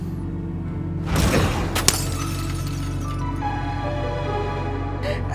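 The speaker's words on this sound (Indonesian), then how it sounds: "Tuh kan, udah cermin hancur." A mirror shatters with one sudden crash of breaking glass, followed by a second sharp crack and a tinkling spray of shards settling over a steady low background hum.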